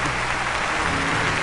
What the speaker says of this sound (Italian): ci vuole un bel applauso per sbloccare la situazione